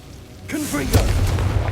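A Confringo blasting spell goes off in Hogwarts Legacy, a sudden booming burst that erupts midway and rolls into sustained rumbling crackle, with a voice calling out just before the blast.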